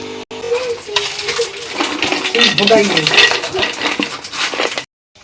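Metal pots and utensils clink and clatter on a home kitchen stove while coffee is being made, a busy run of scraping, stirring and chinking up close that stops abruptly at the end.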